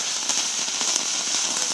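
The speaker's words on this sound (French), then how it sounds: "On entend d'autres bruits de pétard parce qu'on n'est pas les seuls." Firecrackers popping in the distance on New Year's Eve, a faint scatter of sharp little cracks over a steady hiss of background noise, no voices.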